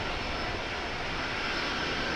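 Airplane jet engines roar steadily on a runway at Los Angeles International Airport, a continuous broadband rush that stays even and loud throughout with no break.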